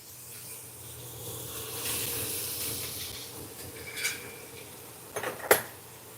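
Bacon browns in a pan for Southern fried cabbage, giving a steady soft sizzling hiss with a few sharp utensil clinks and scrapes near the end.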